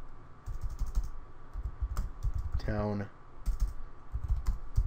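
Quick clicking keystrokes on a computer keyboard, steady and close, run beneath a man's speech, with a short break where he pauses.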